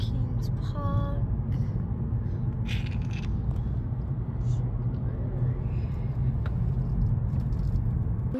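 Car driving past Kings Park at night, a steady low engine and road rumble from inside the cabin with faint rattles, while people talk over it.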